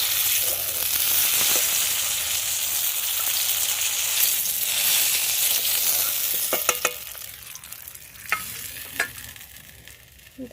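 Okra and tomato frying in oil in a pan, giving a steady close sizzle throughout with a few sharp spatula clicks and scrapes toward the end.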